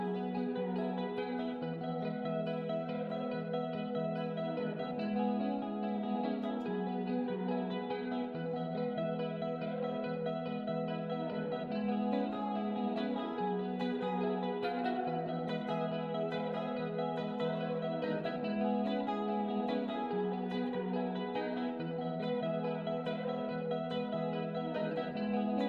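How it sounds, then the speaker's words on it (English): A guitar playing a repeating melodic line with a shimmering chorus effect and lingering reverb, warm and continuous with no talking. "I often use it as a kind of weird chorus with a sort of reverb effect"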